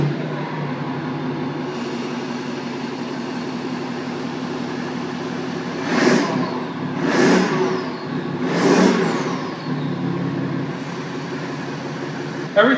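Diesel six-cylinder engine swapped into a BMW wagon idling with a low steady rumble, then revved three times in quick succession, each rise and fall distinct and loud against the idle.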